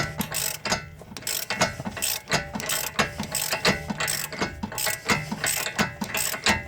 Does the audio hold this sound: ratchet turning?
yes